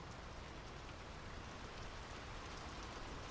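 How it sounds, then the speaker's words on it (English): Steady rain falls in the video game Draugen, a dense, even hiss of downpour on surfaces with no voices, constant and moderately loud throughout. "The rain's picking up."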